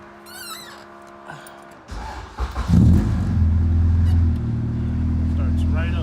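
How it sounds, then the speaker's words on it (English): A Honda Civic EJ1 with a stripped interior and an unreliable start, its engine cranking briefly and then catching into a loud, steady idle rumble close by, with a voice talking before it starts. "See if she'll turn on first try."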